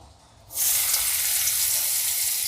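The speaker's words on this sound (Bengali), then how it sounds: "একটু তেল গরম হয়ে গেছে পেঁয়াজ দিয়ে দেবো" Onion hitting hot oil in a pan bursts into a loud, steady sizzle after a brief quieter moment, then holds a dense hiss to the end.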